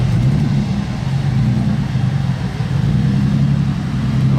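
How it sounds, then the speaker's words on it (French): A Lancia Stratos sports car engine rumbles steadily and loud at close range on a Monaco street at night, a low continuous throb with slight swells but no sharp revs. "Lancia Stratos."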